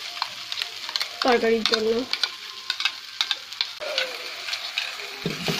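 Spice masala for elephant foot yam curry sizzles and hisses in a pan as it is sautéed and stirred, with repeated spatula scrapes close by. Someone speaks briefly over the cooking.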